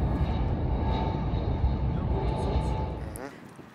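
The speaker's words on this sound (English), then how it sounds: "It's on the roof where we can see the planes landing." Airplane engines roar steadily and loudly from planes landing near a rooftop, a broad continuous rumble that fades in the final half second.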